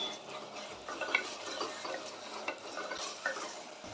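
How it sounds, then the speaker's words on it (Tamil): Ginger garlic paste fries in hot oil in a pan for kanava (squid) thokku, a soft sizzle under the scrape and clink of a spoon stirring, close and quiet, with no talking. "ஒரு ஸ்பூன் வந்து இஞ்சி பூண்டு சேர்த்துக்கோங்க. சேர்த்து அதையும் வந்து நல்லா வதக்கி விடுங்க"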